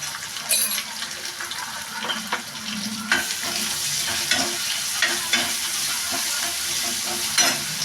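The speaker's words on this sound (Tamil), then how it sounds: "வெங்காயம் நல்லா பொன்னிறமாக வதங்கிடுச்சு" Onions frying in a pan for a tamarind kara kuzhambu, steady close sizzling with repeated stirring scrapes and small bumps of the spatula, no voices.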